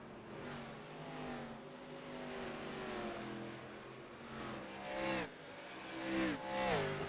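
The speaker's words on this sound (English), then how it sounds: "The fastest car on the track is Josh Oswald" Stock cars in an ARCA Series race at Richmond track roar with engines revving, pitch rising and falling as they accelerate. Two louder cars sweep past near the end, over a continuous engine drone from the field.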